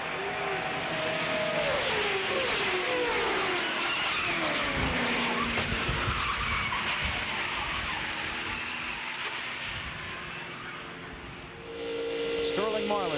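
NASCAR stock cars crash at Talladega, tires skidding and screeching over roaring engines and crowd noise, a loud dense wash of sound with a commentator talking throughout and a lull before engines swell again.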